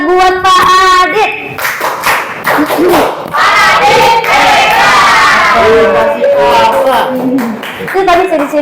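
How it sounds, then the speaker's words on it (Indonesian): A group gives a loud clapping cheer for Pak Adit during a school teacher training session, with rhythmic claps mixed with chanting voices and shouts throughout. "Oke, tepuk hebat buat Pak Adit."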